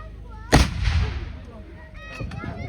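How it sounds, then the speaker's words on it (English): A big artillery gun firing at a war vehicles show delivers one sharp, loud boom with a rumbling tail, followed by faint voices and honking-like sounds in the background. "Number one gun. Fire."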